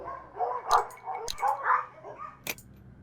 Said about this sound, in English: These dogs have been trained to act vicious on command.